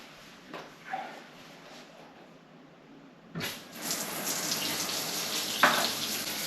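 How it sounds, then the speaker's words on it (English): Quiet hiss of a handheld shower, then a strong steady spray of water hitting a waterproof motorcycle glove, continuous and close. "use the handheld shower spray bit thing and spray over the glove"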